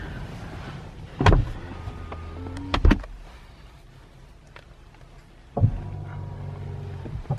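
A 2021 Cadillac Escalade Platinum's door opening, with a sharp latch clunk, a second double thud a moment later and another soft clunk near the end, close up over a low steady cabin hum.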